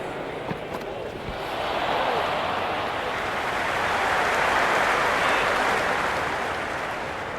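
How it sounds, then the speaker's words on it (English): Stadium crowd at a T20 cricket match between England and India, a broad continuous roar of cheering from the stands that swells and stays loud throughout. "There's a buzz, a real buzz coming from the stands."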